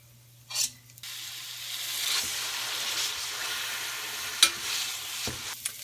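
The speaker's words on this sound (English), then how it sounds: "we're going to saute them for exactly 1 minute" Food being sautéed in an Instant Pot pressure cooker for a chuck roast, a steady soft sizzle with occasional stirring scrapes and clinks against the metal pot, under a low constant hum, no talking.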